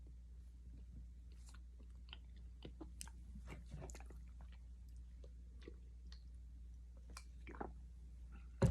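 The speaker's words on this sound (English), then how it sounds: "Sorry, I'm chewing a bone." A bone being chewed close to the mic, with quiet irregular crunches, clicks and wet squishy bites spread over several seconds against a low hum.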